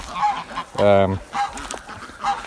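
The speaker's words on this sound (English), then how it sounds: "All the geese and ducks and chickens are out for the day." Honking geese on a South African homestead call out in short bursts, one loud honk standing out among fainter squawks from the flock.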